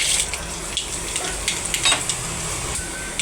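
Mustard seeds and urad dal splutter in a little hot oil in a pan, with quick scattered crackles and pops over a continuous soft sizzle, heard close.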